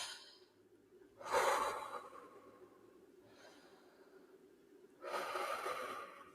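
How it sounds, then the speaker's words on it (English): Two deep, slow calming breaths, each a long audible inhale-exhale rush of air, close and fairly soft, separated by a quieter pause with no talking. "So those deep, slow breaths."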